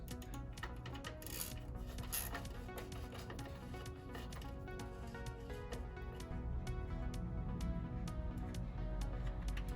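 Bolts come off the valve covers of a Ford Y-block V8 with repeated sharp metallic ticks and clicks, like a ratchet working steadily close by under a low, rumbling background.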